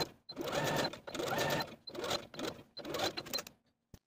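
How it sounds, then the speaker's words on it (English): A sewing machine runs a long stitch around a knit dress in quick close bursts of rapid mechanical clatter, separated by short pauses, with no talking. "I'm going to use the longest stitch on my machine and go all the way around with about 1/8 of an inch seam allowance"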